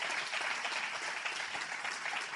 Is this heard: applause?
yes